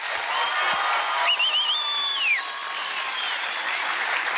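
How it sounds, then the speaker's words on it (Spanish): A studio audience at a Colombian comedy show claps and applauds in a steady broadband wash. A whistle-like tone rises and falls above the clapping. "vamos a brindarle un fuerte aplauso a Papá Dios, bien fuerte."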